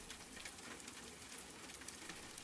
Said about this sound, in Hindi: तेज बरसात का शोर अब फुसफुसाहट में बदल गया है।